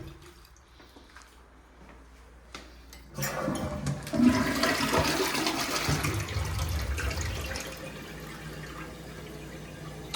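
After a few quiet seconds, an apartment toilet unused for a while flushes with a loud rushing swirl of water that slowly drains away and settles into a softer refilling trickle.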